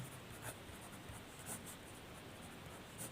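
Pen writing on paper while working a class 10 triangle geometry problem, a faint steady scratching with a few brief louder strokes, quiet and close, no talking.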